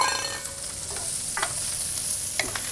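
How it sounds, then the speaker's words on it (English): Garlic slices and sliced white onion fry in a hot pan alongside shellfish, giving a bright, continuous sizzle with a few scraping spatula strokes, close up and with no one talking. "while this is cooking, we're going to add some of our aromatics. Simple, couple slices of garlic, some sliced white onion."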